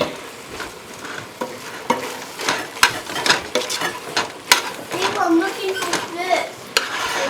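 Vegetables stir-frying in a hot pan for homemade egg rolls, with a soft sizzle, repeated scraping stir strokes and clinks of a utensil, close by, while a person and someone talk in the background.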